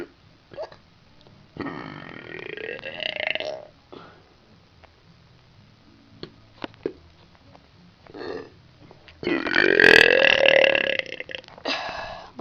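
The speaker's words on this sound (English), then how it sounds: "I'm going to try some burping today." Loud, drawn-out human burps, deliberately produced, come in two long bursts with a few short bursts between them and quiet gaps in between. No words are spoken.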